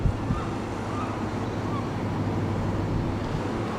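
Sea waves on the Scarborough foreshore, heard as a steady broadband wash of surf mixed with wind rumble, continuous and fairly loud, with no speech.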